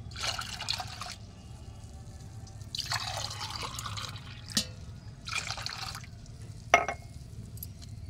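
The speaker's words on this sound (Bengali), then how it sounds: "মা এখন চিরতা খাড়া যে বলে তোমরা হয়তো অনেকেই জানো, তো সেই জলটা এখন ছেঁকে দিচ্ছে" Water steeped with bitter chirata herb is strained, giving quiet splashing pours in several short bursts with soft drips and a couple of sharp clinks between them, over a faint steady background hum.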